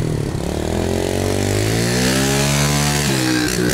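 A motorcycle engine revs loudly and pulls away, its pitch rising steadily, with a brief gear change near the end; no voices.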